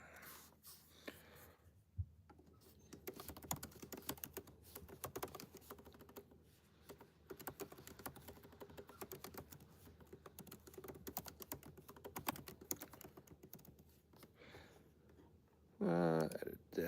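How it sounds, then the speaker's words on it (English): Rapid, irregular clicking of typing on a computer keyboard runs steadily at moderate closeness throughout, with brief quiet gaps and a short louder burst near the end. "Let's type something."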